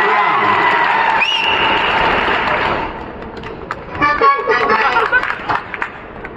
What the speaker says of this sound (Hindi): ताली एक बार भाई।